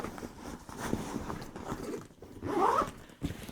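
A zipper on a duffel bag is pulled closed in a few short rasping strokes, close up, amid light rustling of fabric.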